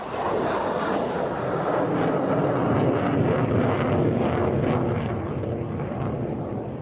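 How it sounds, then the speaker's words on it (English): Royal Netherlands Air Force F-16 jet in a display flight at the Leuchars airshow, a continuous loud roaring engine rumble with shifting tone as it passes, no voices. "for the Royal Netherlands Air Force F-16 display at Leuchars in 2010"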